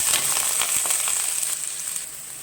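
Chopped large onions sizzling and frying in a pan while mutton sukka is being cooked, a steady close hiss with small crackles and occasional stirring scrapes.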